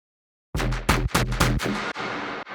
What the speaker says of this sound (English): We have another step bass, which sounds like this.